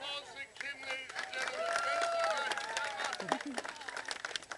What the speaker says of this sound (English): Big round of applause to Kim